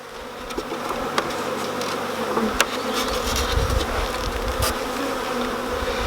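Honeybees swarm around an open hive during a nuc transfer, a dense, steady buzzing that stays loud and close throughout, with no talk.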